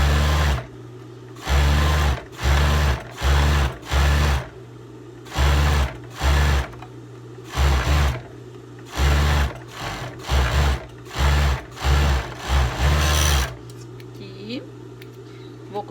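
A sewing machine stitching a winter teddy jacket with a zipper runs in about a dozen short, steady whirring bursts separated by brief pauses, loud and close, with no talking.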